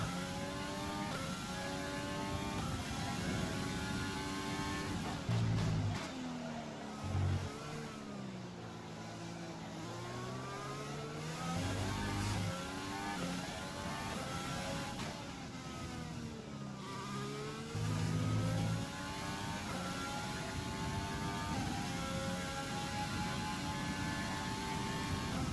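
Formula 1 car engine from the F1 2020 racing game, a continuous high-pitched whine rising and falling through gear changes, with brief dips on braking, loud and steady throughout with no talk.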